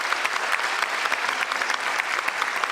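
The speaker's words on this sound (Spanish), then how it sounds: "Un aplauso para todos." Dense, even applause from a seated audience at the close of an academic lecture session, many hands clapping at once without a break for nearly three seconds.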